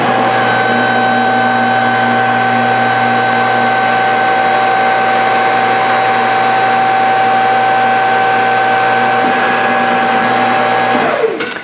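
A hydraulic tubing bender works a roll bar tube toward a 65-degree bend, a steady loud mechanical whine with a constant hum that holds for over ten seconds before stopping abruptly.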